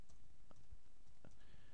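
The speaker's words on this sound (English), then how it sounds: "in this box, I'm going to go ahead and type my email" Soft clicks from a computer keyboard as an email address is typed, a few scattered keystrokes that stay quiet and close, with light room noise underneath and no talking.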